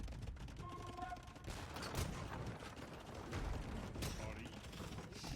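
Hand cannons fire in a real-time strategy game battle, a dense crackling volley of overlapping shots with mechanical clatter, heard under a commentator's voice.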